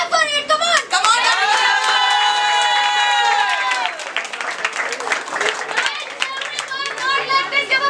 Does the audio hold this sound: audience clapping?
yes